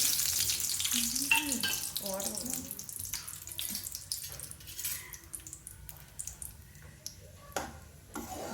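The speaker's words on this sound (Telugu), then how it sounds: "జీడిపప్పులు గోల్డెన్ బ్రౌన్ వచ్చే వరకు వేయించుకుందాం" Cashews frying in hot oil for a mushroom and cashew masala curry give a close, bright sizzle that fades a little over time. A few brief voice-like sounds and clinks break in partway through.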